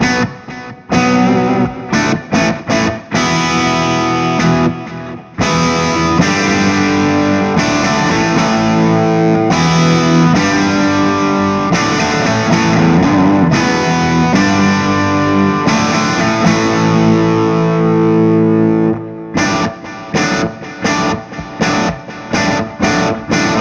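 Electric guitar through a Metropoulos Super-Plex amp with the mode switch on gives a loud, driven rock crunch: sustained chords ring for long stretches between short choppy stabs at the start and end.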